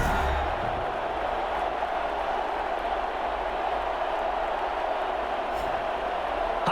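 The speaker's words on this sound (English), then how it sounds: "This crowd is ready" Steady roar of a stadium crowd in Madden NFL 21 ahead of a Baltimore Ravens vs Las Vegas Raiders matchup, a continuous loud wash of cheering with no clear breaks.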